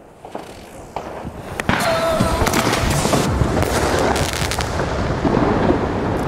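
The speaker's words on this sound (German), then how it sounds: "Der Knall ist heftig. Also ich meine von den Bodenblitzen oder so." Sharp ground flash firework bangs crack out early, then a dense, loud roar of crackling explosions and rumbling fills the rest of the clip.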